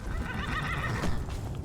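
A horse neighs in the video game Skyrim Special Edition, a drawn-out whinny at moderate volume over a low rumbling background, with no talking.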